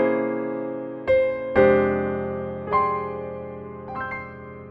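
Jazz piano playing altered minor 2-5-1 chords, four sustained chords struck one after another and left ringing, clear and moderately soft, with no voice.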